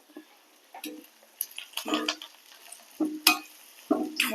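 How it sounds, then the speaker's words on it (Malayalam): Onions with salt are stirred in a pan, with intermittent scraping and clinking of a spoon against the metal, quiet and close, in short irregular bursts with gaps between strokes. "നന്നായിട്ട് ഇളക്കി കൊടുക്കാം"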